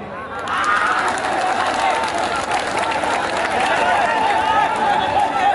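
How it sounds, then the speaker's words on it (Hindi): A huge crowd at a mushaira poetry gathering applauding steadily, dense clapping mixed with murmuring voices, loud and continuous throughout. "तालियां।"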